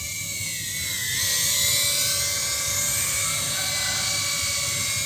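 Small acro-mode FPV drone powered by a cheap 380mAh 60C Tunder X battery, flying with a steady high-pitched motor whine and buzz that swells slightly then holds, alone without talk.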